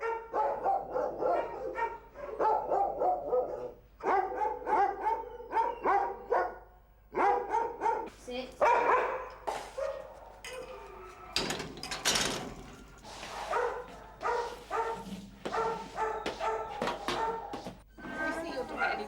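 Dogs bark at a busy dog rescue home holding more than 300 dogs, scattered yaps and woofs mixed into steady narration and background voices.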